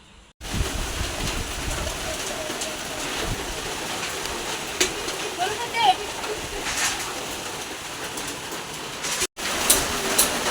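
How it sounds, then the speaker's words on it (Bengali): Heavy rain from Cyclone Remal pours steadily outside a damaged home, a continuous broad hiss heard from indoors with occasional voices and faint bird calls over it. "অনেক বৃষ্টি, অনেক বৃষ্টি"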